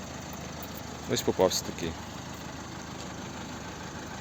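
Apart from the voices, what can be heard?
Opel Astra K 1.6 diesel engine idling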